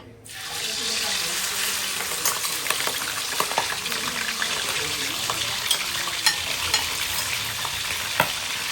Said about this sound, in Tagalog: Mainit na yung ating mantika and iyan na natin itong chicken